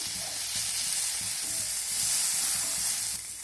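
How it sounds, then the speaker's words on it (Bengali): Chopped onion and green chillies fry in hot oil with whole-spice tempering, giving a loud, continuous close sizzle with light stirring clatter, with no voices present. "ফোড়নের সঙ্গে পেঁয়াজ আর কাঁচা লঙ্কাটাকে ভেজে নেব।"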